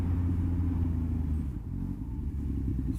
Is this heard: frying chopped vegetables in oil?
no